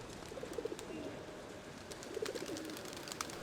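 Feral pigeons give two soft, low cooing phrases against faint background noise, fairly quiet and a little distant.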